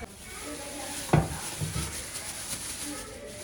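Onions frying in a pan until brown give a steady, soft sizzle, with a sharp metal clank from a utensil early on and faint low voices in the background.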